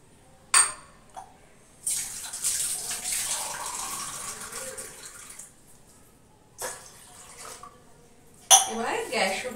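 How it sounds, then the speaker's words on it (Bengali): Water runs into a pot in a kitchen to make tea, coming as short bursts of splashing with pauses between them and clinking of metal cookware. "চায়ের জল দিয়ে দিলাম।"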